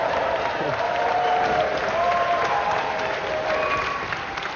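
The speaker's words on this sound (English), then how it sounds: "A round of applause again for Ashley Pass." The GamesMaster studio audience claps steadily, a full round of applause that holds at the same level throughout and tapers slightly at the end.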